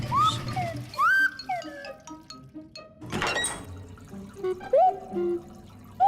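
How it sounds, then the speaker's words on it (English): Playful cartoon washing machine noises from the Clangers: bouncy whistling slides, bloops and a sudden sloshing thunk midway, with scattered chirpy tones throughout. "It's a sort of washing machine for Granny's woolens."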